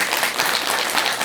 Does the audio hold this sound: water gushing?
no